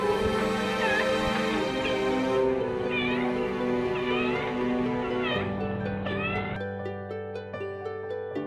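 A cat meows repeatedly in a series of rising, drawn-out cries, loud and close, layered over sustained background music with no speech.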